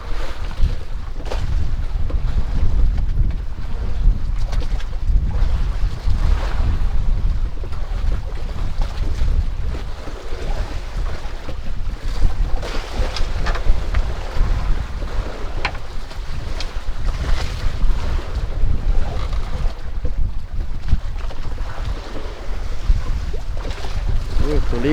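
Boat out on the open sea two days after a typhoon, with steady wind buffeting the microphone and waves washing around the hull, a continuous loud rumble throughout.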